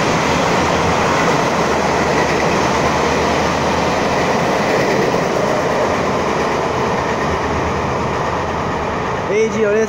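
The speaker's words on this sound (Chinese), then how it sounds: "有列车通过" A Taiwanese passenger train passes through an underground station, likely a Chu-Kuang set hauled by an R113 diesel-electric locomotive or a PP Tze-Chiang express, with steady loud rumbling and rail noise throughout and no speech.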